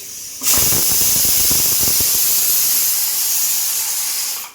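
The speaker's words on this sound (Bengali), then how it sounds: "তো কুকারে আয়ুষের ভাত বসিয়েছি" A pressure cooker cooking rice vents steam with a sudden loud hiss that starts after half a second and holds steady, close by, fading slightly at the end.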